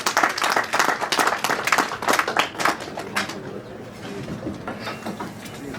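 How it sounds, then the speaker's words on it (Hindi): Clapping from an audience at a Delhi BJP senior workers' gathering, fairly loud for about three seconds, then thinning into scattered claps and room noise. "जरा जोरदार ताली बजाएं।"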